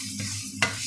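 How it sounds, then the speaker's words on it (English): Onions frying in a pan for an eggplant moussaka, a steady close sizzle broken by a quick scrape of stirring. "So I'll just give this a bit of a fry"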